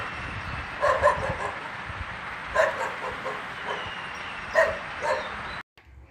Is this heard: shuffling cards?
no